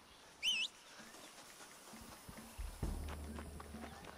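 Donkey hooves clip-clopping on the ground in the video game Red Dead Redemption, a few soft, sparse steps amid quiet game ambience, with a brief bird-like call near the start.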